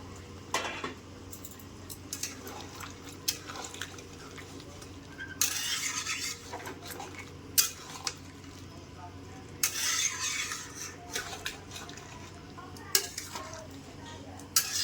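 Mixed vegetables, including drumsticks, go into warm water in a cooking pot, with clattering clinks of utensil against metal in scattered bursts over a low steady background hum.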